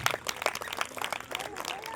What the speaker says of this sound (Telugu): సచిన్ టెండూల్కర్ కొట్టాడన్న వాళ్ళు చప్పట్లు కొట్టండి.